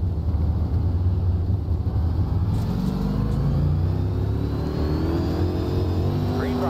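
Race cars accelerating at the green flag in iRacing Dirt, UMP Modified Series at Williams Grove Speedway: a loud, steady engine roar of a pack of cars building speed, with no talk.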